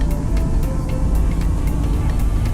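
A 2001 Mercedes ML430 (W163) runs along at a steady road drone with engine hum and low rumble, driving after coming out of limp mode, with faint ticks and bumps over the continuous noise.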